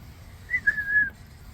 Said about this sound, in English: Now I'm pairing the whistle with the remote collar.